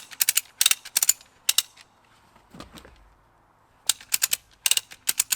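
A strap ratchet clicks in quick sharp bursts while cranking down during installation of Alaska Bush Tracks, with a pause midway filled by a soft low clunk before the clicking resumes, close and crisp.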